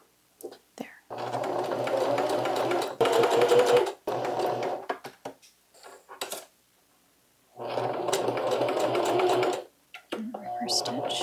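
A home sewing machine running a zigzag stitch in two bursts of fast, steady whirring, with short pauses and quiet handling noises between them.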